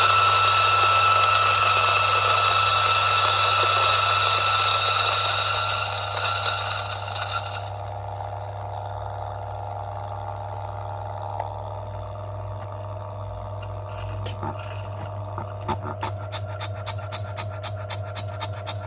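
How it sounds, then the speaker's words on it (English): A DF64 coffee grinder running loudly with a steady motor whine and gritty grinding, which thins out halfway through, leaving a lower hum with light rattles and ticks toward the end. "Okay, let's see how it grinds."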